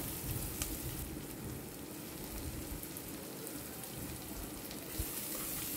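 Mutton pieces for a gravy fry in a pan with salt added, giving a steady, dense crackling sizzle with no pauses, close and fairly quiet.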